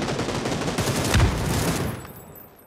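Sustained gunfire from an upstairs window in a PUBG match, a dense rattling barrage of overlapping shots that holds steady, then fades away into quiet at the end.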